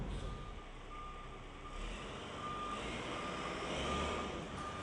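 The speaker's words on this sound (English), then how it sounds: "they are pulled out by a special vehicle called a trackmobile" A trackmobile moving loaded flat cars out of a loading bay sounds a steady, repeating reversing beep over a low, continuous engine rumble, moderately distant with no voices.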